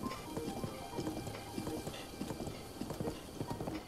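Horse hooves clip-clop in a steady, brisk rhythm in a video game, close and continuous throughout.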